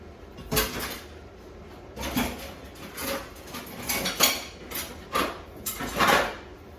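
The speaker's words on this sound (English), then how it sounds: "we're gonna use this pan" Metal pans clank and scrape on a home stovetop as they are set out to heat mashed potato for potato tacos, a string of short, close knocks and clatters at an irregular pace with no talking.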